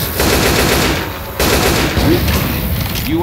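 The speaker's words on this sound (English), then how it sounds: "You are shooting me." Rapid automatic gunfire rattles loudly in bursts during a Left 4 Dead 2 co-op session on the Dark Carnival campaign, with a brief break and a faint voice underneath.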